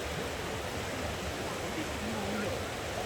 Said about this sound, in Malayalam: വെള്ളത്തിൻ്റെ ആ ഒഴുക്കിൻ്റെ ആ ഒരു ശബ്ദം ഉണ്ടല്ലോ